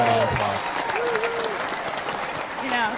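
An audience at a talk show claps in a steady, moderately loud wash, with voices speaking over the applause throughout.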